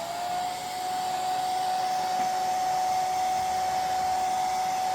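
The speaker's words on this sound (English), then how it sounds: "go over it with a hair dryer just to make sure" Hair dryer blowing continuously, a steady airy rush with a thin high whine, close and loud, with no voices.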